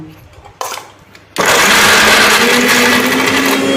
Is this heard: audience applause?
no